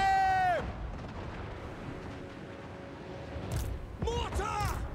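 Mortars fire in a Total War Warhammer 3 battle. Low, rumbling booms sit under descending whistles and fighting noise, with voices of a player talking over the combat.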